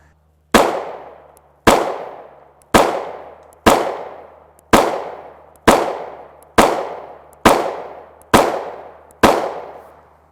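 Ten sharp 9mm full-metal-jacket shots from a Springfield Hellcat pistol with a 3-inch barrel, fired one at a time at a steady pace about one second apart, each loud crack trailing off in a short echo, no talking.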